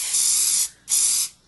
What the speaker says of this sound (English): I'm just going to go ahead and spray that on the back.